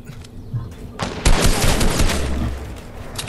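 Burst of sniper and rapid gunfire in a Fortnite duos match, loud and close, a sharp crack followed by a dense volley lasting over a second, then tapering off.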